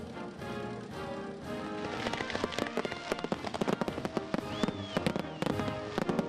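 Fireworks in Rhode Island burst in a dense, quickening crackle of sharp pops over a continuous rumble, growing busier and louder toward the end.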